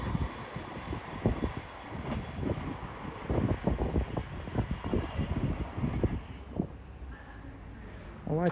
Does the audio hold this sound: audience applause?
no